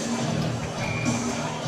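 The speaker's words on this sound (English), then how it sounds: "Still a big crowd here at the Jones Center." Steady murmur of a hockey crowd at the Jones Center during a Razorbacks college game, a continuous babble of voices and arena noise without distinct cheers.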